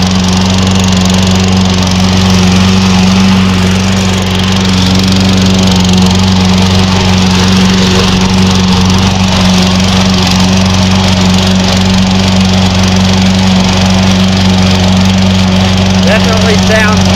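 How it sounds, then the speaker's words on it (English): Gas lawn mower engine running steadily while cutting grass, a loud, close, continuous droning hum with a strong even tone throughout and no pauses; a voice talks over it. "go ahead and start the gas mower up and run it a little bit on the same strips I've been cutting with the electric"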